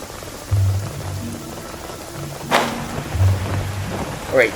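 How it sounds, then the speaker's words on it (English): Rain patters steadily across a Genshin Impact landscape while a sharp, crackling thunderclap bursts near the middle, with a few smaller rumbles and splashes around it. "And it's still raining."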